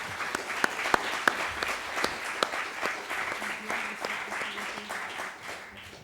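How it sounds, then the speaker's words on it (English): An audience at an industrial innovation conference gives a round of applause, sustained and fairly even, heard from slightly back with a few sharper individual claps standing out. "I would ask you for another round of applause too."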